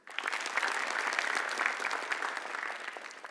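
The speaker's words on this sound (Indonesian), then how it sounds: "tepuk tangan boleh?" A comedy-show audience applauds for film director Joko Anwar during a roast, with thick, even clapping that stays at a moderate level for the whole stretch, slightly distant.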